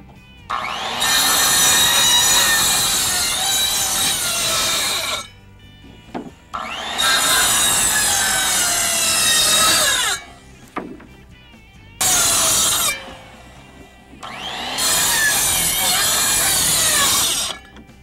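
A power saw cuts through wood rafters for a shallow-pitch shed roof in four loud, sustained passes of a few seconds each, separated by brief quieter gaps as the blade winds down.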